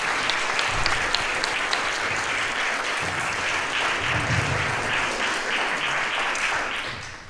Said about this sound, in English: A big round of applause to David.